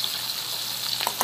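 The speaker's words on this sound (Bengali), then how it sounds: "আমি একই রকম ভাবে বাকি মাছগুলো ভেজে নেব" Morola fish fry in hot oil in a pan, a steady close hiss and sizzle with small pops near the end and no voices.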